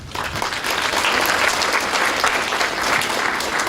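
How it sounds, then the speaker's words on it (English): An audience at a September 2018 training session bursts into sustained, dense clapping after a presentation, steady and fairly loud throughout with a faint murmur beneath. "Everybody give another round of applause for her great presentation."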